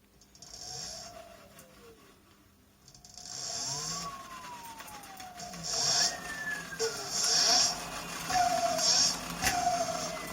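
An electric motor from a Tesla and Nissan Leaf on a Greyborg motorcycle build whines up and down in rising and falling pitch sweeps, with intermittent high electronic tones and mechanical rattles close by.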